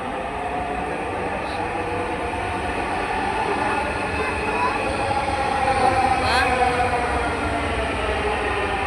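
A metro rail train rumbles past at a station, a steady loud roar of wheels and carriages lasting throughout with faint squeals, and no clear talk over it.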